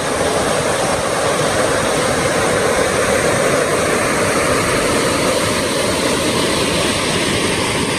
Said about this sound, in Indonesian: Sekitaran sini ada sungai yang memang besar.